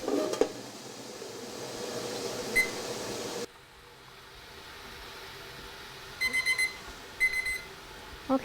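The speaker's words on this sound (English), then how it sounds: "set the timer for 25 minutes" A kitchen timer goes off while jars of fresh pears process in a boiling-water canner, giving two quick clusters of rapid beeps over a low background hum.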